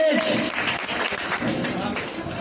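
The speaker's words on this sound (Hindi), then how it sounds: "एक बार जोरदार ताली होना चाहिए लोगों के लिए" Loud applause from a crowd at a stage event as people are called up, a dense continuous wash of clapping with a voice over it.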